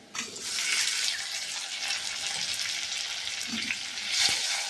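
Tomato tipped into a pan of frying crab curry with onion and whole garam masala, setting off a loud, steady hiss of sizzling oil that swells briefly near the end, close by with no talking.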